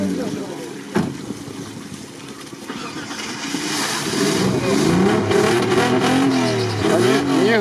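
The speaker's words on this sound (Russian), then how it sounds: "Саня, не газуй!" Off-road vehicle engine revving during an off-road outing, a loud rising and falling roar that builds and stays strong toward the end, with wind buffeting the microphone and voices mixed in.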